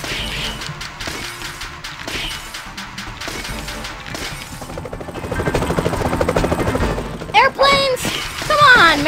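Aircraft attacking in the video game Alien Hominid: loud whirring engine drone with mechanical rattles, building in intensity and ending in sharp crashing and smashing impacts.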